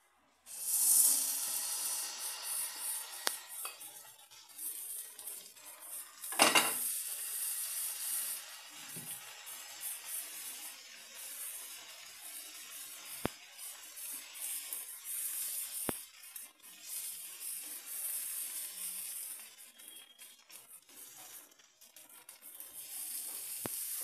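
An egg cheese dosa cooks on a hot dosa pan with a steady, close sizzle and hiss that runs throughout, broken by a few brief clicks and one sharper burst early on.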